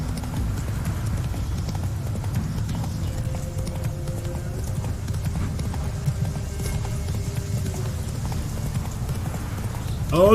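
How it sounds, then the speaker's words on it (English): Steady horse hooves clip-clop in The Witcher 3 video game, a continuous rhythmic trot under low ambient game sound. "Oh no, the horse is stuck!"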